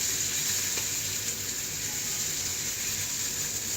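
Salmon patties frying in a pan, a steady, close hiss and sizzle of hot oil running unbroken throughout without talk.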